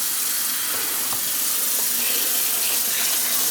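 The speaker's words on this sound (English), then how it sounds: "you fill this with cold water" Cold water pours steadily from a kitchen tap into a container of shrimp, a continuous bright hissing rush with no pause, close by.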